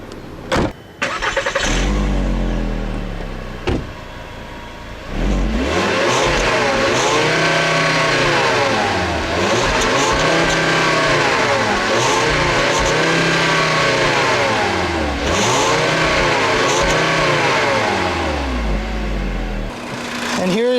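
A 2010 Volkswagen Golf four-door with a 2.5-liter five-cylinder engine cranks and fires up, settles into idle, then gets revved in a series of rising and falling pulls, loud and close throughout.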